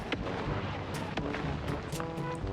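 K2 tank cannon fire in a combat video game, a dense, rumbling battle mix of distant booms and scattered sharp reports, steady and fairly faint with no clear single blast standing out.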